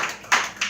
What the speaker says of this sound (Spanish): Ay, dale un aplauso al Señor